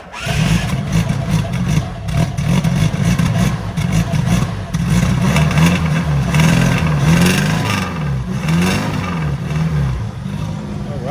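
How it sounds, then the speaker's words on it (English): A car from a private collection in Norwich fires up and runs, its engine loud and close as the exhaust rumbles and revs rise and fall, with voices talking over it. "All right, listen to that exhaust."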